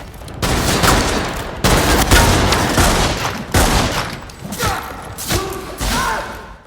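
The Talon gun fires from the hip in a video game, producing a loud, close series of heavy booming bursts of shots separated by short gaps, with thudding impacts.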